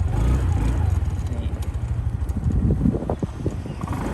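A Honda Scoopy 2021 scooter engine idles just after starting, a low, steady close-up putter that runs throughout, with someone talking over it.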